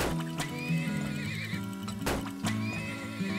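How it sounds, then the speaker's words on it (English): A horse neighs loudly in the video game Turmoil, a shrill whinny with wavering pitch over game music, with hoof-like clopping beats mixed in. "fill up horse"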